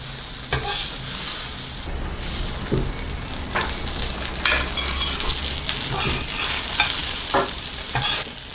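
Egg kalakki sizzles loudly in a hot pan while it is stirred and mixed. Spatula scrapes and clinks break irregularly through the steady close frying hiss, with no voices.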